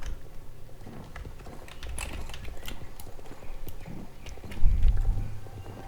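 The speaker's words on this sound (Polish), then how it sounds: "Jakoś ten koń wolno jedzie, matko." Horse hooves clip-clop in the Star Stable Online video game, a quiet, steady run of light hoofbeats with soft background sound and no one speaking.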